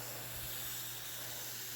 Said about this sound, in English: The sprayer is great for if you have any kind of problems with arthritis and having to squeeze a spray bottle